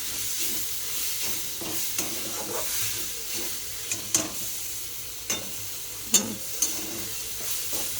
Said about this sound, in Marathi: आता हे आपण मस्तपैकी भाजून घेणार आहोत